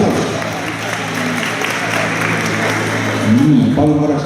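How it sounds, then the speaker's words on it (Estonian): An audience at a ballroom dance competition applauds after a slow waltz, a sustained wash of clapping from a hall crowd that swells slightly near the end as a voice begins over it. "Aplaus."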